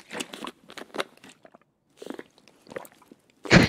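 Crunchy eating sounds from a food item consumed in the video game Escape from Tarkov, a series of close, crisp bites and chews with pauses in between, ending in a louder crunch.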